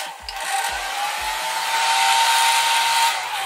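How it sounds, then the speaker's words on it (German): A hotel bathroom hair dryer in a five-star Berlin hotel gives a few handling knocks, then blows with a loud, steady whine that holds to the end. "Auf jeden Fall hier ein Föhn."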